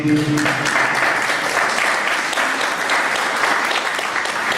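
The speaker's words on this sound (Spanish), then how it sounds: "para quien pido un fuerte aplauso" An audience applauds at a university lecture event, a dense, loud, sustained burst of clapping that carries steadily through the moment, briefly overlapping the tail of a voice at the start.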